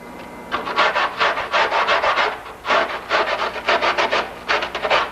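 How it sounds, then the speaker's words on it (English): Foam for an aircraft main wing is beveled by hand, with repeated rhythmic rasping strokes in quick bursts, close and fairly loud, broken by short pauses. "We bevel the foam right to nothing, to this, from this edge directly to the beveled edge."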